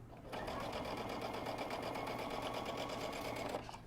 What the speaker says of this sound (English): I'm going to sew this, and I would sew it from this side so I could see what was happening